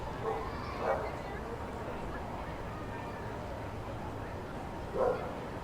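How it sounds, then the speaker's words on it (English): A dog barks in short bursts, twice, somewhat distant, over a steady background hum of a minor-league baseball crowd at an outdoor ballpark. "If you hear the barking that might have been picked up on that mic"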